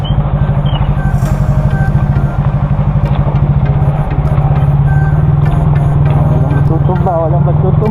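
Motorcycle engine braking on a high mountain ride in stormy typhoon weather, a steady loud rumbling pulse with clattering running throughout, close and continuous, with wind noise and faint voices mixed in.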